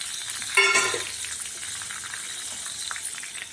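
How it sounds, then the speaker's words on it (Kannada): Mustard seeds, chana dal, urad dal, cumin and fenugreek seeds hit hot oil in a pan with a sudden loud crackle, which settles into a softer, steady sizzle. "ಬಾಣಲಿಗೆ ಮೂರು ಸ್ಪೂನ್ ಎಣ್ಣೆ ಹಾಕಿದ್ದೀನಿ ಸಾಸಿವೆ ಕಡಲೆಬೇಳೆ ಉದ್ದಿನಬೇಳೆ ಜೀರಿಗೆ ಮೆಂತ್ಯ ಹಾಕ್ತಾಯಿದ್ದೀನಿ"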